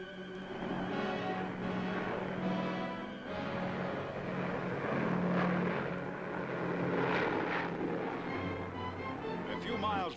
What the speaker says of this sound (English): Overhead, American planes patrol.